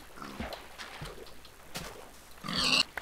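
A pig oinks and grunts in a blocky survival crafting game while monsters are being fought, with a few short grunts and a louder, brighter squeal near the end over low background noise.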